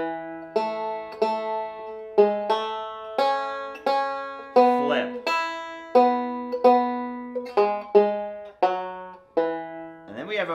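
Bluegrass banjo picks out a phrase of the carol Hark! The Herald Angels Sing, bright plucked notes in a steady rolling rhythm, each attack ringing and decaying, heard close and alone.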